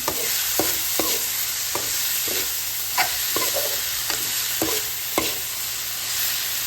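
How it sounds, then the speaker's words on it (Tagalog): Celery and lemon sauce for a spaghetti and shrimp dish sizzling in a pan, a steady hiss punctuated by about ten sharp spoon clacks and scrapes as it is stirred, with no talking. "Lagyan natin yung celery at saka yung lemon na yung sauce natin."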